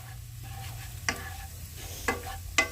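A spoon stirs ginger into a mixture in a pan on a cooking stream, with a soft steady sizzle beneath and three sharp scrapes or taps against the pan at intervals.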